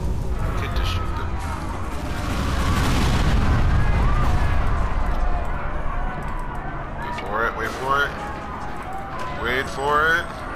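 Gunfire and booms from the video game Watch Dogs, a sustained burst of loud shooting and blasts, followed by someone talking over quieter game sounds.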